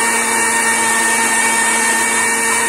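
A kitchen mixer grinder blends cold coffee with milk and sugar, running as a loud, steady motor whine with a continuous churning hum and no pauses.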